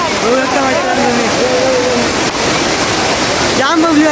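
Savatkada waterfall in the Konkan rushes in a steady, loud roar of falling water while someone talks over it nearby.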